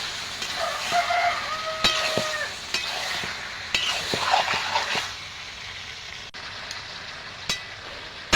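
Mutton fried with onion, garlic and tomato for a curry, sizzling steadily in the pot while a spoon scrapes and knocks through it at irregular intervals, close and moderately loud with no talking.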